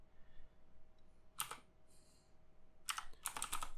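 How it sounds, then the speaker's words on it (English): Keystrokes on a computer keyboard come in two quick bursts, a short cluster early on and a denser run of clicks near the end, close and clear over a quiet room hum. "And I'll type in,"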